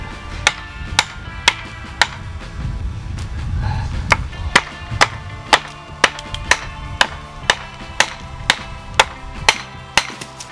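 A forged XC75 steel bushcraft knife with a hamon chops through a wood knot, giving a steady series of sharp, close wooden knocks about twice a second, with no talking.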